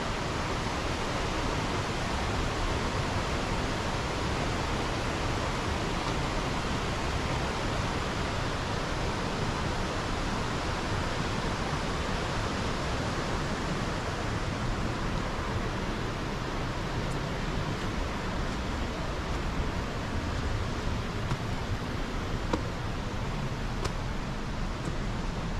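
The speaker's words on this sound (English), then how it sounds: "I can just get a bit closer to that roaring water." Roaring water of a waterfall in Reelig Glen near Inverness, Scotland, pours as a steady, dense rush that holds constant, close and unbroken, with no voices.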